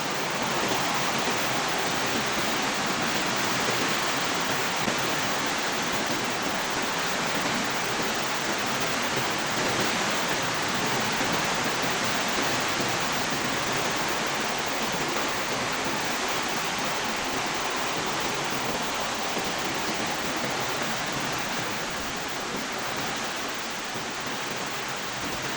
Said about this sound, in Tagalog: Malakas ng ulan pero walang masyadong hangin.